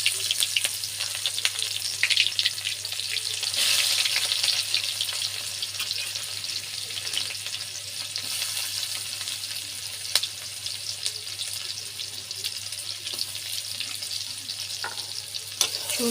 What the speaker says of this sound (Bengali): সুন্দর করে রসুন পেঁয়াজ ভাজা ভাজা করে নেব